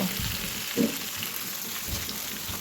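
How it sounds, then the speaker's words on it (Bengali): Tender ridge gourd and potato pieces sautéing in a pan, giving a steady close sizzle and crackle of oil with a couple of small stirring knocks. "এই ঝিঙ্গা আর আলু দিয়ে আমি এখন এগুলিকে ভালো করে কষিয়ে নেব"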